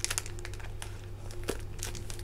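Crinkling and tearing of a parcel as sticky tape and fragile stickers are pulled away from plastic-bagged diamond painting kits, with quick rustling bursts and a sharp rip near the middle, close and moderately loud.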